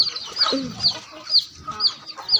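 Chickens cluck and squawk in short bursts at close range in a rural farmyard, with a few sharp higher calls scattered through.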